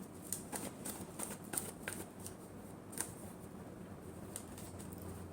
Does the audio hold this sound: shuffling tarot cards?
yes